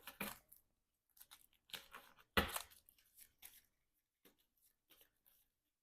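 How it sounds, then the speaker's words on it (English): Shuffling a game card deck for the Marvel Champions card game: scattered bursts of riffling and papery snaps with short pauses between, close and fairly quiet, no voices. "we're going to shuffle up the encounter deck discard pile here"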